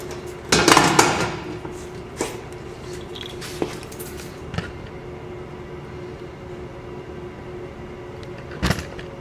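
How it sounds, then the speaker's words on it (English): A tire thrown up onto the top of a tire changer machine lands with one loud, heavy thud near the start, followed by a few faint knocks and a steady low workshop hum. "we're going to throw the tire up on top of the machine"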